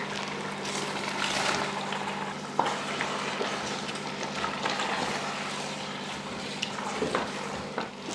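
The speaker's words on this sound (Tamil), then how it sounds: "நல்லா அரிசி போட்டு ஒரு 2 நிமிஷத்துக்கு நல்லா வதக்கினதுக்கப்புறமா தண்ணி சேர்த்துக்கலாம்." Soaked seeraga samba rice sautéed with chicken in a pot gives a steady sizzle with scraping stirs and a few sharp utensil clicks against the pot, close and continuous, with no talking.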